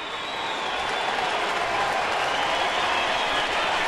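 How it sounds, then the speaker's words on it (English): A large baseball stadium crowd claps and cheers in a broad, steady roar of applause that swells slightly and holds without letting up. "Most of them are clapping and cheering here"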